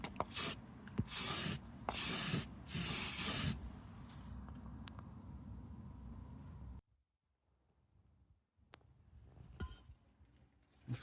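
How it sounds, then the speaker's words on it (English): Aerosol can spraying rust-protection coating onto the underside of a Toyota, three close hissing bursts in quick succession, followed by faint handling noises and quiet rustling. "I'm going to try and hold this and spray this little bit here."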